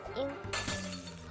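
A sudden crash of something breaking and shattering, bright and loud, that rings out briefly after a short voice-like tone at the start.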